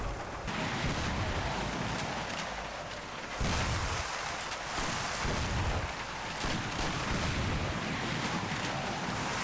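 Gunfire in the video game Mafia: The City of Lost Heaven: loud, dense shots and bursts cut through a constant roar of noise, with sharper cracks scattered across the stretch.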